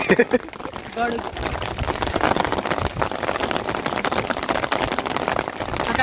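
Heavy rain pours onto a farm field in a steady hiss and patter, fairly loud and continuous, with a person speaking over it throughout.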